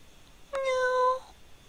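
A house cat named Miss Beta gives one clear, drawn-out meow, close and fairly loud in a quiet room, with nobody speaking.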